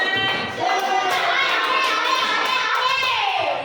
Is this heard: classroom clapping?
yes